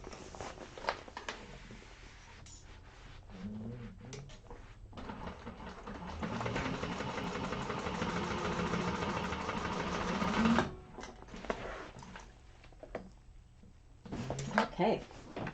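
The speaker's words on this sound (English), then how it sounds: "And I'm going to do my second row stitching." A sewing machine stitches a second row along a vinyl bag, running in one steady rapid burst of several seconds, with a person talking before and after and quiet handling noises around it.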